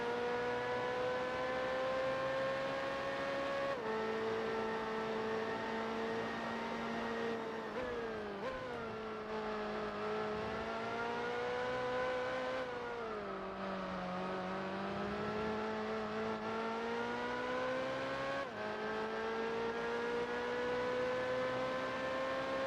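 Race cars in the video game Gran Turismo 4, including a Le Mans RX-8, a steady droning engine tone that shifts pitch with gear changes and throttle, continuous and even throughout.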